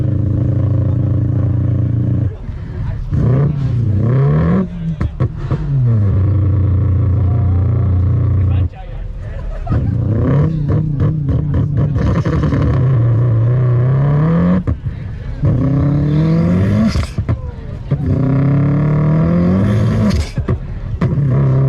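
Subaru STI engine revving hard at a large Los Angeles car meet, loud repeated throttle blips rising and falling over a steady idle, close to the listener, with voices faintly mixed in.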